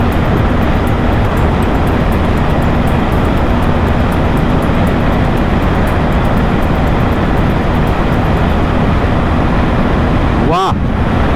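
A BMW 1250 GSA motorcycle cruises on an expressway, its sound buried in a loud, constant roar of wind buffeting across the whole clip, with one brief whoosh near the end.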